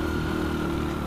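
A Honda Win 100 motorcycle engine drones steadily while being ridden on a touring trip, a close, continuous mid-pitched hum lasting about a second with no clear rise or fall in pitch.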